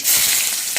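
Chopped onions hit hot oil already tempered with mustard seeds and cumin, giving a short, loud burst of hissing sizzle.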